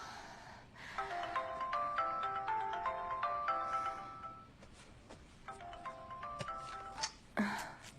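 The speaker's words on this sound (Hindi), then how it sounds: "फूपेई का फोन आ रहा है।" A phone ringtone plays a repeating melodic chime pattern, pausing briefly before starting again, with faint background noise.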